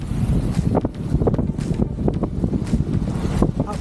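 A sailboat running at about 8 knots in gusty westerly winds of about 20 knots, roaring steadily against the microphone with rushing water and hull noise, loud and close throughout.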